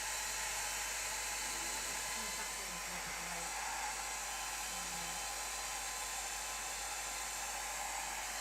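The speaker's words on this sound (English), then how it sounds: "try hair drying this now" A hair dryer blows over a wet watercolour painting of a kingfisher, a steady loud whooshing hiss with a constant motor hum that runs unbroken throughout.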